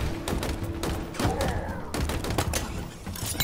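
Rapid gunfire from Halo Infinite rattles in dense continuous bursts with heavy thumps throughout, loud and busy, with faint game effects mixed underneath.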